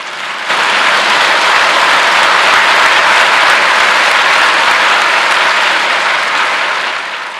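A church congregation at a Yoido Full Gospel Church sermon breaks into sustained applause, a dense, even roar of clapping that swells in quickly, holds steady and fades at the end.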